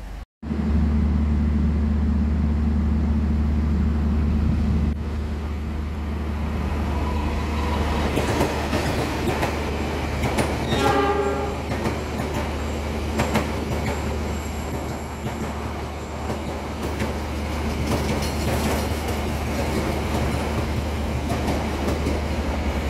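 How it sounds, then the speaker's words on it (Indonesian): Malabar Pagi passenger train, running from Malang to Bandung, passes straight through a station on track 3, a loud, steady rumble of wheels and carriages with rhythmic clacking over rail joints partway through, continuous throughout. "yang barusan melintas langsung di jalur 3 itu rangkaian kereta api Malabar Pagi dari stasiun Malang tujuan akhir stasiun Bandung"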